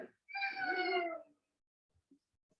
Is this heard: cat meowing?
yes